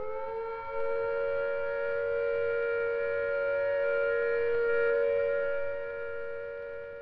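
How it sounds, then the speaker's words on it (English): A steady, sustained civil defense all-clear siren wail holding one pitch for several seconds, slightly swelling and fading, heard from a distance. "when the all-clear sounds like this"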